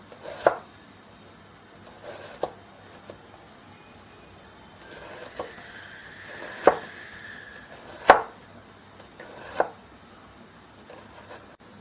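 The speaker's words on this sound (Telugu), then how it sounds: "సేమ్ అలానే క్యాబేజ్ మనము క్యాప్సికమ్కి తరిగాం కదా, సేమ్ అలానే తరగాలి." A knife chops cabbage on a board, with sharp isolated cuts landing every second or so at an irregular pace, fairly close and otherwise quiet.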